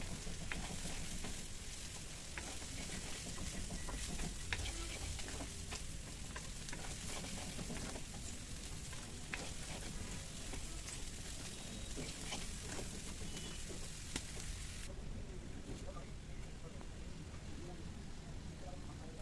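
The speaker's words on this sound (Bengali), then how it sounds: "প্রায় 4-5 মিনিটের মতো আবারও ভালো করে নেড়ে চেড়ে ভেজে নিয়ে" Chicken and vegetables for bhuna khichuri fry in a pan while being stirred, a steady loud sizzle with intermittent scraping of the spoon, continuous throughout at close range.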